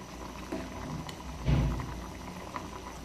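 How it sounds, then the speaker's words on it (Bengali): Red lentil dal with mixed vegetables simmering in a pot, soft low bubbling and occasional thicker plops, quiet and close with no talking. "ডালটা একদম সিদ্ধ হয়ে গলে যাবে, তারপর ডালটা আমি নামাবো। ততক্ষণ আমাকে এটা ফুটাতে হবে।"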